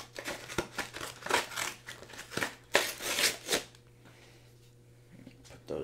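Scissors snip and crinkle through the plastic wrap of an early Xbox 360 copy of Call of Duty: Ghosts, a run of close, sharp cuts and rustles over about four seconds before it quiets.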